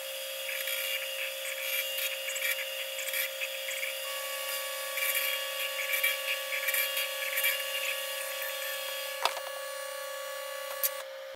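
A CNC mill cutting clamp blocks held in a vise, a steady high-pitched machining whine with overlapping tonal hums and a couple of brief sharp ticks, continuous and close.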